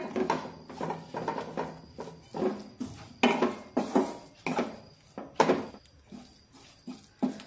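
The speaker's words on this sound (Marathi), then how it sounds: "आता हे सर्व मसाले व्यवस्थित मिक्स करून घेऊया।" Spice masala stirred in a pot with a spoon, a run of close scraping and clattering strokes in an uneven rhythm, each stroke a short rasp against the metal, with no voices.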